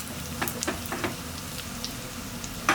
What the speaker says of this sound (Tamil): பூண்டு, காஞ்ச மிளகாயெல்லாம் இந்த மாதிரி தாளித்து கொட்டும் போது நல்ல மணமாக சூப்பராக இருக்கும்.